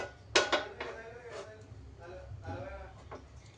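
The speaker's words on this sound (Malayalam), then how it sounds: "അപ്പോൾ നമ്മൾ ചട്ടി അടുപ്പത്ത് വെക്കുകയാണ്." A clay cooking pot is set down on a stove with a sharp ceramic clunk near the start, followed by softer knocks and shuffling, close by, with a voice talking over it.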